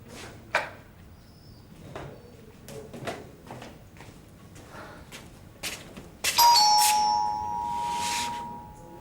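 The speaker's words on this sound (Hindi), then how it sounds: "ये शिवानी की घंटी तो नहीं है।" A doorbell chimes clearly after scattered knocks and thumps, its ringing tone sustained and fading in a quiet room.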